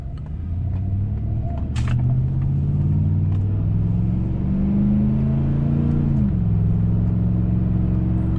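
A Chevrolet Silverado 1500 pickup with a swapped 4L60E automatic transmission accelerates from inside the cab, a steady engine drone rising in pitch and then dropping as it shifts gears around six seconds.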